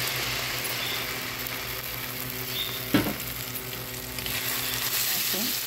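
Mustard and poppy seed paste sautés in hot oil with turmeric and dried chili, a steady soft sizzle with a sharp clatter of a spoon stirring against the pan partway through.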